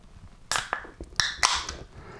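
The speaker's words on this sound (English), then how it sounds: "Open the can" A can of Bernstein Pale Ale from Bergbräu is cracked open, a sharp snap and hiss followed by a couple of quick metallic clicks and a brief fizz, close and fairly loud.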